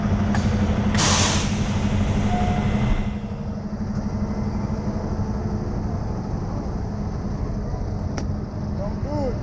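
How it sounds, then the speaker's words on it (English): A semi truck's air brakes set with a sharp hiss burst near the start, followed by a steady idling diesel engine rumble while the rig sits during a turnaround. "Go ahead and set your brakes for a second."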